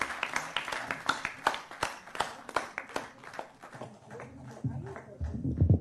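Audience claps at an award felicitation ceremony for Arjuna and Bhim Award recipients, a steady run of brisk, rhythmic hand claps that thins out and gives way to murmuring and other noise near the end.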